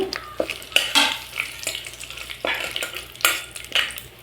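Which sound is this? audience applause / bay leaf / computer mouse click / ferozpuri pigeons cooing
bay leaf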